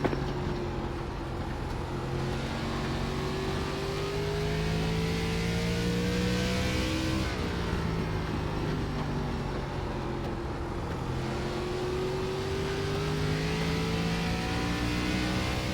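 ARCA stock car engines roar in an iRacing simulated oval race, a continuous loud drone whose pitch climbs and dips as cars rev and pass, with several engines overlapping and no voices.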